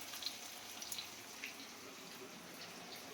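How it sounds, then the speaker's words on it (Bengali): Water poured into a pan of hilsa fish heads, a faint steady liquid rush with light splashing and a few small drips, quiet and without voices. "এবার এটার মধ্যেও একটু হালকা করে জল দিয়ে দেবো, দিলে মাথাগুলো নরম হয়ে যাবে"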